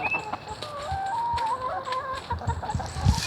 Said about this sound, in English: let me go in here and give these this vegetable soup to these chickens and see what they think